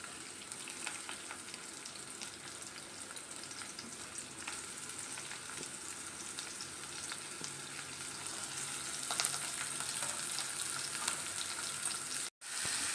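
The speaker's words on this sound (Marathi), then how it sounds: "आता आपल्याला हा कांदा तांबूस रंगापर्यंत होईपर्यंत भाजून घ्यायचा आहे लालसर" Onions fry in oil in a pan with a soft, continuous sizzle and faint crackle, steady and fairly quiet throughout.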